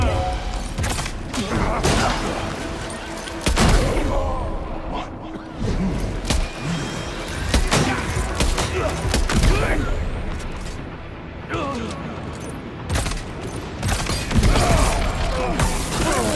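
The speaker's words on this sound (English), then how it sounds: "they're just shooting randomly" Scattered gunshots from enemies firing at random in Death Stranding 2, sharp cracks and thuds spread across the stretch, some near and loud, others farther off, with game ambience running underneath and a voice talking at times.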